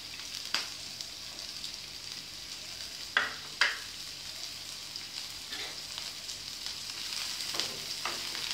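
Onion pieces and green chili frying in a pan for egg semiya upma, a steady close sizzle with a few sharp crackles and stirring scrapes spaced through it, no voices.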